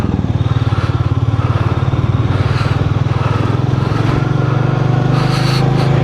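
A Royal Enfield Meteor 350 motorcycle rides at low speed, its single-cylinder engine thumping steadily and loudly up close, with wind rush and no talking.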